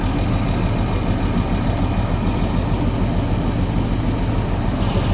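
Classic Jaguar XJS engine idling with a misfire, a steady low rumbling drone held close and continuous throughout with no talk.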